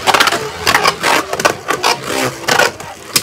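Bolt Spryzen and Ultimate Valtryek Beyblades spin and clash in a stadium, producing loud close scraping whirs with repeated sharp metallic collisions in uneven bursts.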